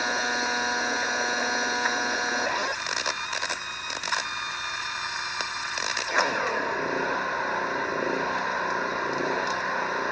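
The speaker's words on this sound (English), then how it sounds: "You can hear we're running out of gas in the generator" A generator engine on a deck framing job runs out of gas, its steady drone breaking into uneven sputters and cutouts midway before settling to a rougher, weaker run, with sharp clatters of construction work in between.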